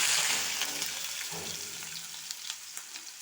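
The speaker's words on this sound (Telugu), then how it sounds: "నూనె కాగింది ముందుగా తరిగి పెట్టుకున్న ఉల్లిగడ్డల్ని వేసుకోవాలి" Chopped onions hitting hot oil in a pan for a bitter gourd and green chilli dish, a loud sizzle at first that settles into steady frying with occasional crackles and stirring clinks.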